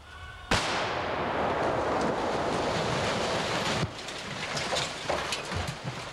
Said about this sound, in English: Then, with liquid nitro sticks, they destroy the still setup with a concussive explosion.